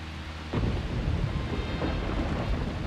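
Steady, dense rain falls in the video game Deadly Premonition Origins, a broad continuous wash that swells after a soft start and keeps going with no talk over it.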